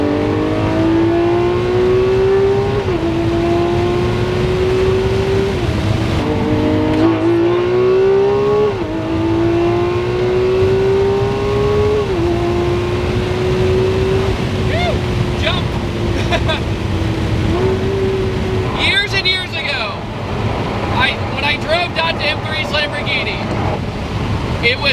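The V12 engine of a Lamborghini Aventador SVJ revs hard while driving, climbing through the gears in repeated high-pitched pulls with sharp shifts between them, loud and close, followed by crackling bursts as the revs fall.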